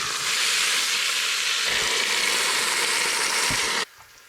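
Beef searing in an Instant Pot gives a loud, steady broadband hiss that runs close and continuous for most of the stretch, then cuts off abruptly near the end, leaving a much quieter tail.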